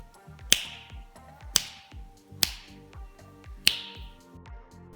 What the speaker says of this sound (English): switch the LED on or off with a snap of the finger